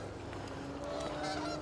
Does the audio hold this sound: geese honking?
yes